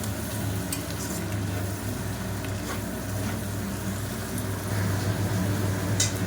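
Chicken pieces frying in a pan with a little salt for chili chicken, a steady dense sizzle running throughout at an even, fairly loud level, with faint stirring scrapes on top.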